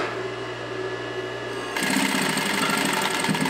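A JUKI DDL-5550 industrial sewing machine stitching through denim, starting with a low motor hum and then kicking into a loud, fast, steady whirring stitch rhythm close by.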